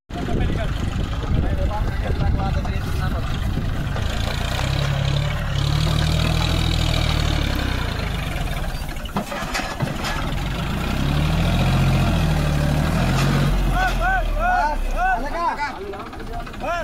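John Deere 5050D and Sonalika tractor engines rumble steadily close by, the low throb rising and falling in pulses, with voices talking over the engine noise throughout.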